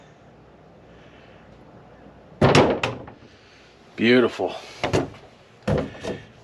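A budget door closer from Amazon easing a door shut, with a soft thunk at contact followed by a few more bumps and knocks, while someone speaks close by.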